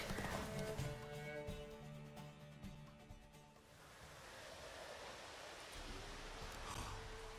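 Horse hooves clip-clop in The Witcher 3 video game, a run of hoof strikes early on that fades into a soft, surf-like ambient wash, with no speech.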